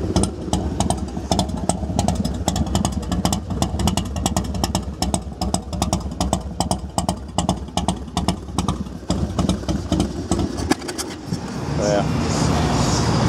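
A Harley-Davidson Fat Boy FLSTF motorcycle engine, run cold without being warmed up, chugs loudly and steadily nearby with a rough, uneven rumble, then settles into a smoother idle near the end.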